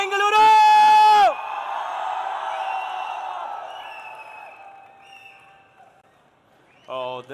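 A crowd fills a Bengaluru esports arena at a grand final, cheering in a sustained roar that slowly fades, with an announcer's shout at the start and another loud voice at the end.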